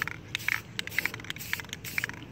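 Short hissing bursts of spray primer dusting a miniature in quick back-and-forth passes, several soft, close puffs repeating at an even rhythm.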